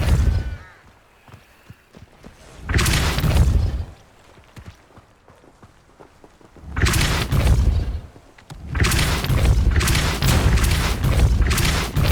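A Depulso spell is cast in Hogwarts Legacy, giving loud booming blasts in two or three bursts, the longest running several seconds, with quiet gaps between them.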